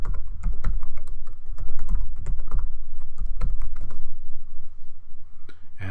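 Rapid, irregular keystrokes on a computer keyboard as a password is entered during final Windows Server setup in Hyper-V, close and crisp, fading out near the end.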